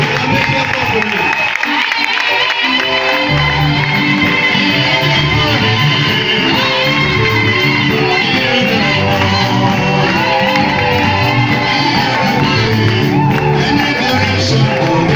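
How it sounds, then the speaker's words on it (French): A church congregation cheers, shouts and whoops at a ministry anniversary service, with music playing and voices mixing in; a loud, dense crowd sound continuing throughout without a break. "Acclamez bien fort pour lui."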